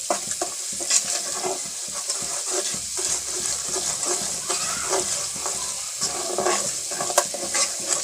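Semolina (sooji) being dry-roasted and stirred in a pan over low heat for halwa, giving a steady soft sizzle with repeated scraping strokes of the spoon, close and continuous with no talking.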